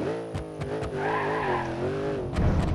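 A Burnside Special drag car in BeamNG.Drive launches hard, its engine howling and rising in pitch over a squealing tire screech, ending in a brief rough burst.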